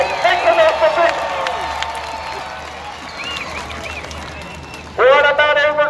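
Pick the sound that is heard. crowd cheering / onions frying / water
crowd cheering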